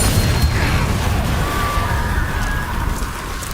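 The Confringo blasting spell detonates in Hogwarts Legacy, a loud, dense rumbling explosion that rolls on steadily for a few seconds without fading.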